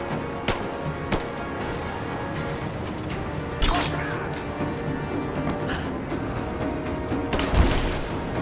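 Gunfire in Rise of the Tomb Raider, scattered sharp shots and a few heavier bursts spread over a busy background of game noise and faint voices, moderately loud.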